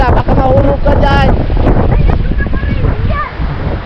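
Strong wind from a typhoon buffeting the microphone near the water in the Philippines, a loud continuous rushing roar under overlapping voices talking.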